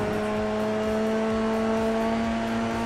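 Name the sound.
Formula 3 engine hitting rev limiter in sim racing video game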